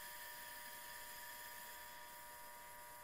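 Gas hissing steadily through a Bunsen burner in a chemistry lab, a faint, even, high-pitched rushing tone with no breaks or talk.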